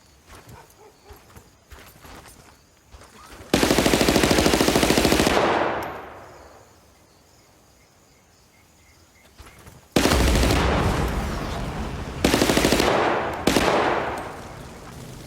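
Gunfire in Battlefield: Bad Company, fired at barrels, comes as loud sustained bursts of automatic shots. A long volley fades out, then a second run follows with short repeated bursts, all close and dominant.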